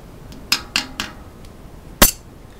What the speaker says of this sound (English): just take the dust cover, slide it into place, and just tap it around the edges